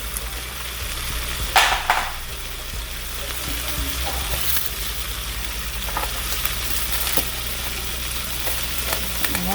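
Egg, vegetables and rice frying in a pan over high heat, a steady loud sizzle with stirring scrapes and one sharp clatter early on, no speech.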